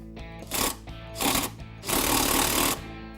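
Power tool driving a bolt on a 1994-2000 EZGO TXT golf cart steering box, three close, loud bursts of rattling impact, the last and longest lasting nearly a second, with short pauses between.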